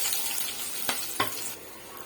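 Finely chopped onions, two of them, sizzling in hot oil with spices for a fish gravy, a steady close frying hiss with a couple of brief stirring scrapes, no voices.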